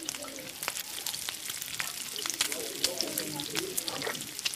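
Cornmeal fritters (mikate ya masangu) frying in oil give a steady, faint crackling sizzle with scattered pops, while a voice talks intermittently nearby.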